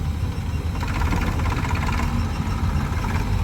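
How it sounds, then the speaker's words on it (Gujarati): A tractor engine idles and runs close by during wheat unloading on a farm, a steady low rumble with a rapid chugging pulse throughout, no talk. "ભાવેશ લઈને ઉપડશે ટ્રેક્ટર"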